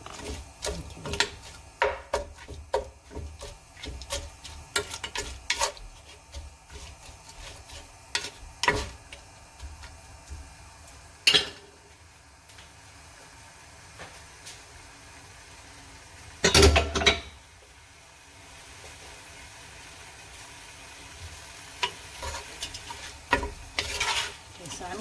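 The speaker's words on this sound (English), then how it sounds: "I'm just going to go ahead and cook the shrimp a little bit in the tamarind mix" Shrimp simmering in tamarind soup mix in a pot, stirred with a utensil. Soft steady sizzling sits under repeated scraping and clattering strokes, with a few louder knocks near the middle.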